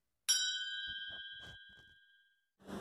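A subscribe-bell notification ding rings once as a bright metallic chime that rings on and fades over about two seconds, followed by a few faint soft sounds.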